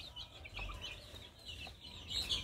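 Chickens and young chicks cluck and peep quietly in a village henhouse, faint scattered calls over a low background hum, with no speech.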